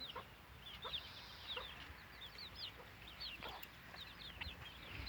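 Chickens clucking in their run, soft repeated high clucks and short calls from several birds at moderate distance over a quiet outdoor background.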